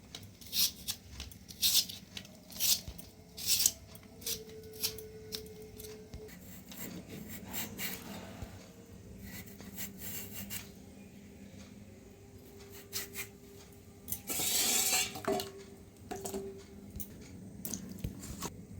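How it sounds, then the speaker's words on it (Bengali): A potato being peeled and cut by hand in a Bengali home kitchen, with repeated close rasping scrapes and short crisp knife strokes in an irregular rhythm, quiet and without talk. "আলুটা ছাড়িয়ে কেটে নেবো।"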